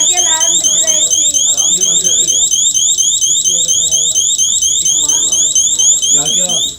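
A shop's anti-theft alarm rings loudly and steadily, a rapid pulsing electronic beep repeating without pause while people talk over it.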